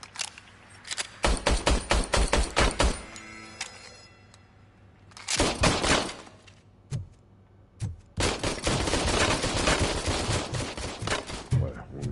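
Bursts of rapid gunfire in the RoboCop: Rogue City video game, several loud volleys separated by brief quiet gaps, then a longer sustained stretch of shooting toward the end.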